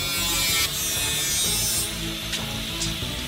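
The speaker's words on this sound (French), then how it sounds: "Coupons un morceau de tuyau." A piece of pipe being cut for a homemade ice cream machine, a steady loud buzzing grind that runs unbroken for several seconds, close by with no talking.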